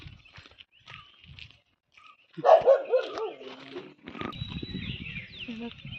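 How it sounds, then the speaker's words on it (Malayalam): A dog barks a few times in a burst midway, fairly close, among outdoor rustling and a person talking briefly. "പട്ടി"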